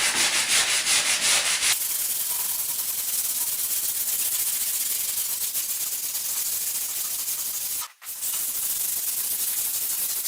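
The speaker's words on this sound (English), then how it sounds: "Recenter the sandpaper on the block and clean up the top edge and the small radius." A sanding block wrapped in sandpaper rubs back and forth over a pine baseboard in steady, loud, close strokes, with a brief pause near the end.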